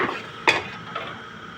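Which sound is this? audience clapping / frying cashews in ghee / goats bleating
frying cashews in ghee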